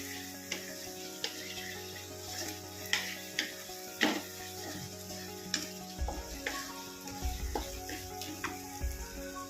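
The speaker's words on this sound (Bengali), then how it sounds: "আদা রসুনের পেস্টের সঙ্গে টমেটো পেঁয়াজটা ভালো করে ভাজতে হবে" Tomato and onion fry with ginger garlic paste for a pomfret fish curry, a fairly quiet sizzle punctuated by regular sharp spatula taps and stirring clicks over a steady background hum.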